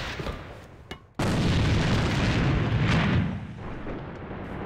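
Grenade explosion in a shooter game: after a quiet stretch with a few light clicks, a sudden loud boom erupts and rumbles for about two seconds before fading into background noise.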